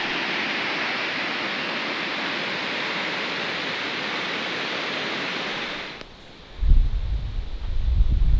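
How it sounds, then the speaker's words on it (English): Rushing water from a waterfall in remote bushland reached by 4WD makes a steady, dense hiss for about six seconds, then cuts off abruptly to a low, gusty rumble. "The water's starting to get a little bit louder now"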